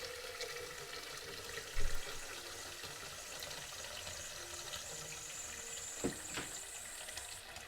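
Water runs into a 1.8-liter pitcher from a tap in a home kitchen, a faint, steady trickle with a few soft clunks of handling, quiet and close.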